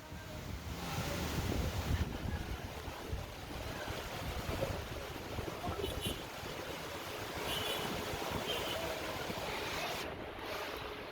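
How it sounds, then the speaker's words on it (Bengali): Strong, roaring wind from Cyclone Remal sweeps through rain-flooded Dhaka, a continuous broadband gusting rush that buffets the microphone, with no clear voices. "বাতাসের অবস্থাও খুব খারাপ ভয়াবহ বাতাস"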